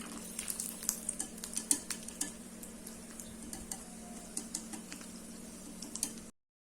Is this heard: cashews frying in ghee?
yes